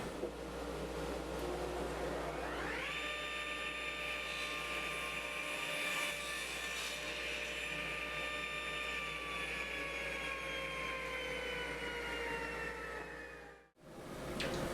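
A power saw cuts live edge boards to length for a small table, one long continuous whine that spins up, holds steady and loud for about ten seconds, then cuts off abruptly.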